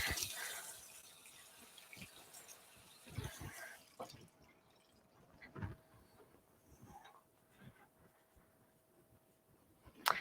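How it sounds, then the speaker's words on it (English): Water trickles and drips from a kitchen sink tap while hands are rinsed of blue food colouring, with faint intermittent splashes and a few soft clunks against the basin, fairly quiet throughout. "I'm going to wash my blue fingers a little bit here"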